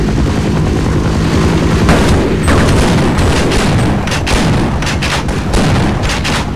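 Tank cannon fire in the video game Half-Life, a dense barrage of loud booming blasts and gunfire repeating throughout, close and continuous with no voices.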